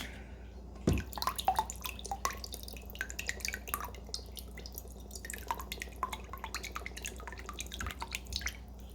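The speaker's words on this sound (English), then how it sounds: "Quarter cup of balsamic vinegar." Balsamic vinegar poured from a bottle, heard as a quiet stream of small liquid drips and splashes that comes and goes for several seconds, with no talking.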